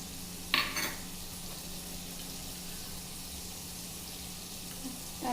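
Tomatoes fry in a pan with a steady, faint sizzle that runs evenly throughout, broken by one brief clatter near the start.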